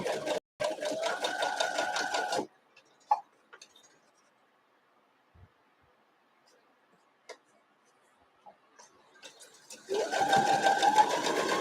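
Stitching a Washington Sidewalk variation quilt block, a sewing machine runs loudly for a couple of seconds, falls silent through scattered faint clicks, then starts up again.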